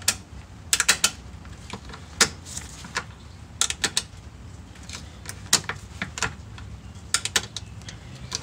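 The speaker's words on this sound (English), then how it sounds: "So the plan is to use the ratchet strap to try to bring the rear axle forward." A ratchet strap clicks as it is tightened to pull the rear axle of a Jeep Grand Cherokee forward during control arm work. Sharp metallic ratcheting comes in irregular bursts of clicks with short pauses between pulls, fairly close.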